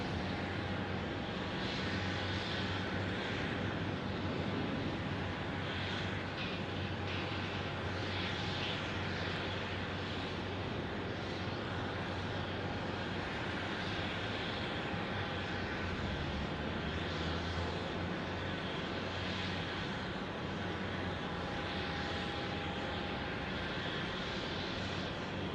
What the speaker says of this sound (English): CRJ 700 for American Airlines.